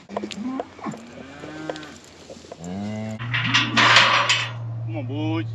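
Several cattle moo and bellow in a working corral, drawn-out lowing calls rising and falling one after another, with a steady low hum and rustling beneath; loud and close.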